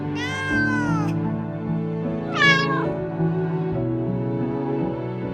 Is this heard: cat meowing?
yes